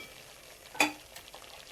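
Masala roasts in oil in a pan for paneer matar, a faint steady frying sizzle with one brief sharp clink of a spoon against the vessel, close by and with no voices.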